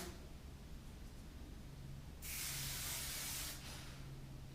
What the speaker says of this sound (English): now this is a wetter hairspray, so it takes a little bit of time to dry